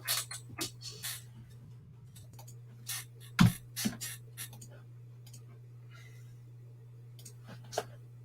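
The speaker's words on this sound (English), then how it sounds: "you're on the keyboard again" Scattered clicks from a computer keyboard sound in short irregular bursts with long pauses between them, fairly faint and close, over a steady low electrical hum.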